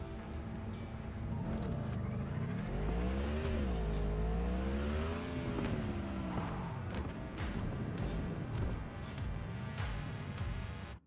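Engine of a stolen motorcycle in Cyberpunk 2077, revving up and down in wavering swells, a steady close drone that rises and falls several times before cutting off abruptly.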